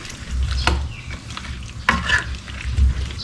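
Thai massaman curry simmers in a pot while a utensil stirs it, with soft scraping strokes and a low bubbling hiss close by.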